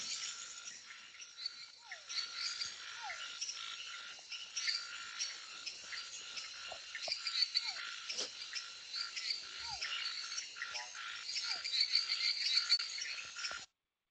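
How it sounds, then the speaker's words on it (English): Frogs croak at night in a dense, continuous chorus, many overlapping calls at moderate distance with occasional sharper chirps, alongside faint insect trills. "these are all frog sounds, mostly that you're hearing."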